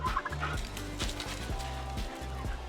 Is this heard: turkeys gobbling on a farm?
yes